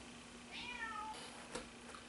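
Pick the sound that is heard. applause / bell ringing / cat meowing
cat meowing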